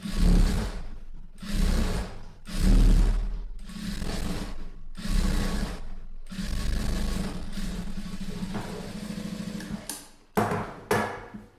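A sewing machine stitches the lining of a garment neckline, running in repeated bursts of steady whirring broken by short pauses, close and fairly loud, then a few quick stops and starts at the end.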